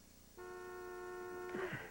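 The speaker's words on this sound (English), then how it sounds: "Third honk." A car horn sounds one steady, sustained honk of about a second, fairly clear, with a brief rustle or thump as it ends.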